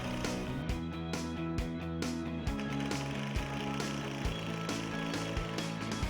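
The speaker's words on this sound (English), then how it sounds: "Insert and finish driving the row of bottom screws." A power driver whirs continuously as it drives a row of screws into the bottom jamb of a Pella wood-clad multi-slide patio door, its motor steady with rhythmic clunks of the bit and clutch.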